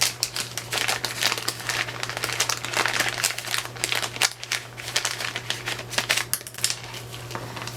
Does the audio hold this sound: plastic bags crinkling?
yes